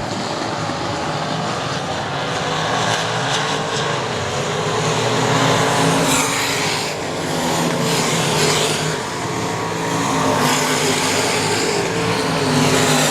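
Race cars battle side by side on track at the All-Star Invitational, engines roaring in a loud, dense, continuous drone that swells and fades slightly as the cars pass, with no voices.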